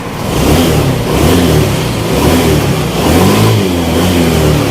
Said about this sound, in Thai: เครื่องสะดวกเร่งดี